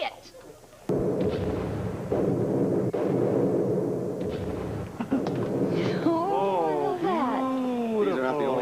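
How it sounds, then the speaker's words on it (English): Fireworks going off in a loud run of booming bursts and crackles, followed by voices talking over the fading display. "These fireworks are good enough for me."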